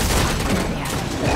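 Video game gunfire aimed at a shielded vampire enemy rattles off in a dense, continuous burst of rapid shots, loud and close for the whole moment.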